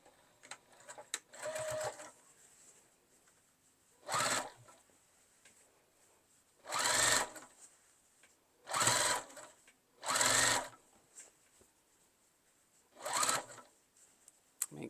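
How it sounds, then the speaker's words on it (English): A sewing machine top stitches around the edge of a fabric iPad case, running in about six separate bursts of steady mechanical whirring, each a second or so long, with quiet pauses between them. "I'm just going to start here and sew all the way around."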